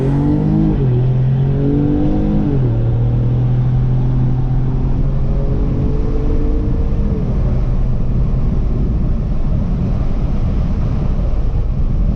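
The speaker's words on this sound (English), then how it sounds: "we'll have it normal sport mode, no paddles, and just give her some gas" A 2018 Ford Fusion Sport accelerating hard in normal sport mode without paddle shifting, engine drone rising in pitch through several gear changes, loud and steady from inside the cabin, with no talking.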